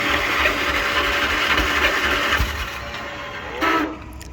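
An old garden tractor engine, choked, fires and settles into a rough, steady running chatter, with a brief louder surge near the end.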